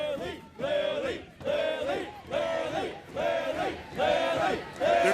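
A large crowd at an online streamer games event cheers in rhythmic, swelling waves of shouting, loud and continuous, each surge rising and falling about once a second.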